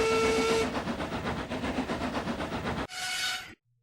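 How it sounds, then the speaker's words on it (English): A steam locomotive's whistle sounds over rhythmic chugging and puffing, the chuffs pulsing steadily for a few seconds before a short burst of hissing steam and then silence. "A little later, the scouts heard a whistle, and Duncan puffed into sight."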